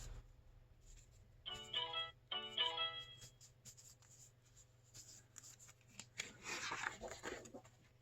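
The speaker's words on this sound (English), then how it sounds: "y'all hear my phone" A cell phone rings in two short electronic bursts, fairly faint, followed by rustling and shuffling noises during paper clip decorating for a journal.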